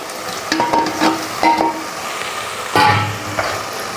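Prawns frying in a pan with tomato: a loud, close sizzle under repeated stirring scrapes and clatters, in several distinct bursts with a heavier clank near the end.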